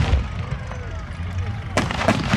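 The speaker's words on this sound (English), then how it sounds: "German front line, we've got some fire coming in now." Incoming fire during a tank battle re-enactment, with a dull distant rumble under a voice and then a sharp, loud bang near the end.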